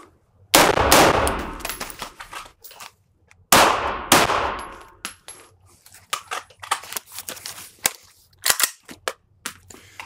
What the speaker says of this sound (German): Ich habe geschossen, habe jetzt eine Störung 1 gehabt, habe sofort auf Wechsel, auf Pistole gemacht, habe meine letzten beiden Schüsse abgegeben